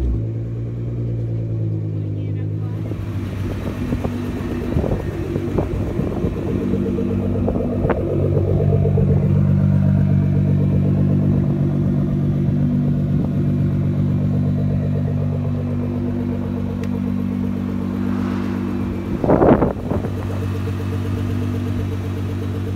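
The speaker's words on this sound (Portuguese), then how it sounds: "esse barulho é muito chique desse escape" A car engine idles with a deep, throaty exhaust rumble, steady and close, with a brief louder rev near the end.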